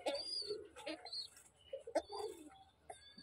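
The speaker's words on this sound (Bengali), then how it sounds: "বাবা কিভাবে তার বাচ্চাদের ফিডিং করাচ্ছে, তাও আবার একটা কবুতর" A pigeon coos softly and repeatedly nearby while a father pigeon feeds its chicks, with a few faint chirps among the low, rolling calls and some quiet background speech.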